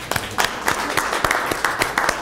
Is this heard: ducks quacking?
no